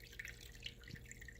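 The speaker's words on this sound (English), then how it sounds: "I got just a little water filter, like a waterfall filter up stuck in there." Water trickles from a small waterfall filter tucked into a Chinese water dragon terrarium, a faint, continuous patter with light drips over a low hum.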